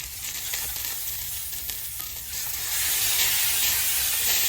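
Pork chops sear in a stainless steel pan weighed down with a plate, a steady close hiss of frying that grows louder toward the end, with no talking.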